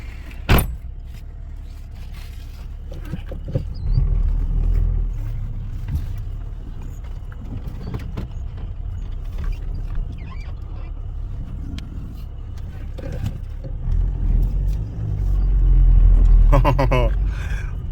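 Car engine running on automatic transmission fluid poured in place of oil, heard as a steady low rumble with a few knocks and key jingles, plus a louder surge near the end as the car sets off on a test drive.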